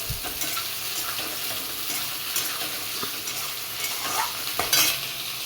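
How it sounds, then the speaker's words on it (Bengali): Onions sizzle steadily in hot oil in a wok, a continuous hiss broken by occasional scrapes of a spatula stirring. "পেঁয়াজগুলো লাল লাল করে ভেজে নেবো"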